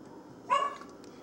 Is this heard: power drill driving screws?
no